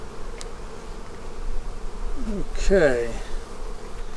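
Honey bees drone in a steady, close buzz at an opened hive in a bee yard with queenless colonies and laying workers, holding a continuous hum under one brief spoken word.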